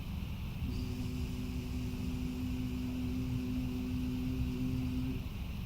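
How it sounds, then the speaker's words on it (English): A steady, droning hum with a faint tonal whine hangs over constant low rumble, unbroken from start to finish, from surveillance drones buzzing overhead in Gaza. "that's the sound of surveillance drones that are by the state of Israel in Gaza"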